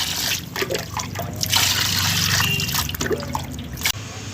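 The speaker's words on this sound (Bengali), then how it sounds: "এখানে আমি মাছটা ধুয়ে নিয়েছি" Water runs and trickles steadily over a Bilaspuri fish of about 1.2 kilograms as it is rinsed by hand, a close, continuous splashing and dribbling with no voices.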